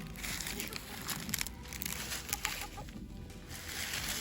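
Busy poultry yard with hens and roosters clucking and rustling continuously, a dense layered chorus close by.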